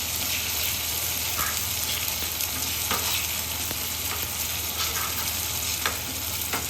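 Curry leaves and sesame seeds frying in hot oil for a tempering poured into millet flour batter, giving a steady close sizzle with occasional sharp pops and crackles throughout.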